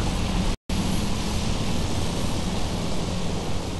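A fixed-wing aircraft in the Warzone 2100 strategy game roars steadily as it takes off, a loud broadband engine wash that cuts out for a split second early on, then continues without a break.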